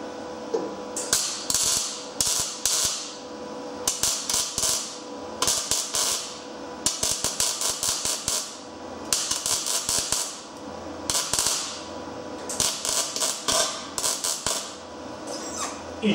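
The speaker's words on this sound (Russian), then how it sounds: "Вот теперь варим." Welding on a Lada Priora car body, with loud close bursts of harsh crackling sputter repeating in short runs separated by brief pauses.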